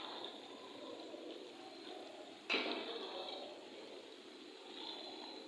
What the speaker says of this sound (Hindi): ये जा रही है इसके अंदर पालक।